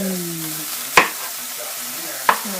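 Onions frying and caramelizing in a pan for French onion soup, a steady broadband sizzle with two sharp utensil clacks or stirring knocks against the pan, close and fairly loud, no talking.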